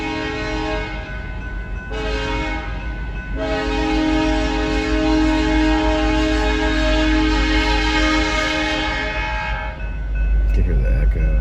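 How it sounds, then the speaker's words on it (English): A cargo train passes with its horn sounding in long harmonic blasts, broken by short gaps and then held, over a steady low rumble of rolling wagons. The horn is loud and fairly close, and it echoes off the surroundings. "That's a cargo train."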